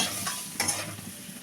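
Fried okra being stirred into a turmeric and salt masala in a pan, giving a brief soft scrape of the spoon over a steady low sizzle.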